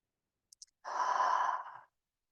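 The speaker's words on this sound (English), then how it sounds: "like you were fogging a mirror, give that a sound like like a ha sound, but make it whisper" Two soft lip clicks, then a single whispered breathy "ha" exhale, airy and close, lasting about a second before fading to silence.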